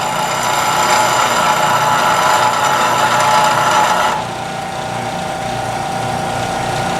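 Beading tool being shaped against a spinning grinding wheel, a loud steady whirring grind that eases to a lower, quieter hum partway through, continuous and close with no voices.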